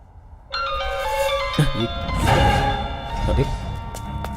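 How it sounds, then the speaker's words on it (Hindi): A mobile phone rings with a bright melodic ringtone in a dubbed Hindi action film scene, holding steady tones from about half a second in, with thumps and background noise beneath. "अरे भाई का फोन आ रहा है यार।"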